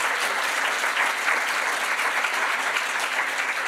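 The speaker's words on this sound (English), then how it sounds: "Give them a clap so that they know there are humans in the room." Steady applause from a symposium audience in a hall, a dense even clapping at moderate level that continues throughout without speech.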